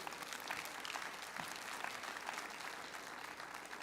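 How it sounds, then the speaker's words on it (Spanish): Sustained applause rises from a church congregation after a prayer, many hands clapping in a dense, even wash that is fairly soft and distant and stays constant throughout. "Dele un aplauso al Señor"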